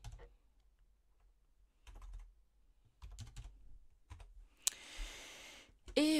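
Typing on a computer keyboard while searching for hamburger graphics in Canva: sparse clusters of close keystrokes come in short bursts with pauses, followed near the end by a loud, noisy rush.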